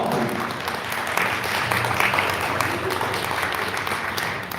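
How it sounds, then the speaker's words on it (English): An audience at an immigration summit in a church hall applauds a panel of attorneys, sustained loud clapping that swells and tapers over several seconds. "Give them a round of applause."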